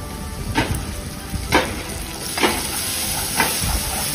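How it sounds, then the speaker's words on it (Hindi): Chopped onions and garlic paste sizzle steadily in a pan while cooking dal makhani, with a stirring scrape breaking through about once a second, close and fairly loud, and no voices. "चार से पांच मिनट भूनने के बाद इसमें 2 table spoon garlic paste add करें।"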